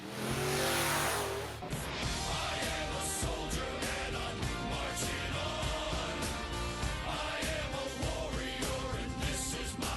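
A loud, powerful monster truck engine roars and revs steadily, with a dense, continuous rumble that stays close and strong throughout.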